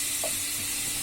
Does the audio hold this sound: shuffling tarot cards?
no